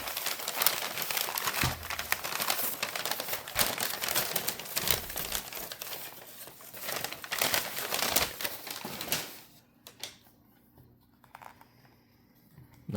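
Packing paper crinkles and rustles continuously while a knife box from a mail-order knife retailer is unpacked, loud and close for about ten seconds, then it drops to a few quiet rustles.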